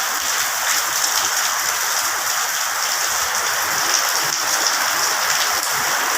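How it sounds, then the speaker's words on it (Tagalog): Heavy typhoon rain pours down steadily in a dense, loud, continuous hiss, with no voices over it. "Bagyo. Miling ka ng ulan."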